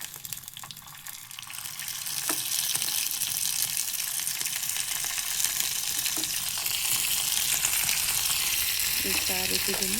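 Spices for a tempering crackle and hiss in hot oil, a dense continuous sizzle that grows louder after a quieter start, with a few faint clinks and no voices.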